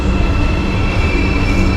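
A Marmaray commuter train runs through Istanbul with a loud, steady rumble and a sustained high wheel squeal, close and continuous, with no voices.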